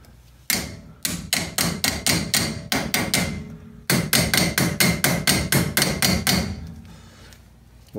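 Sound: hammering brake rotor cap into place

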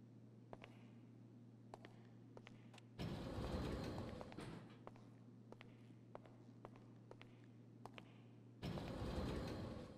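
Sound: personal vehicle arriving, from video game GTA Online

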